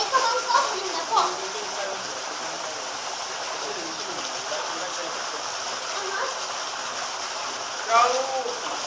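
A waterfall gives a steady, moderately loud rush of falling water, with a few brief faint voices breaking through at the start and near the end.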